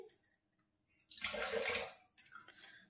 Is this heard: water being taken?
yes